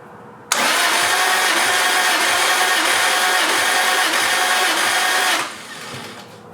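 A turbocharged Toyota IS300 engine cranks over on the starter during a compression test, a steady loud rapid churning that starts abruptly and runs about five seconds before cutting off, with no talking.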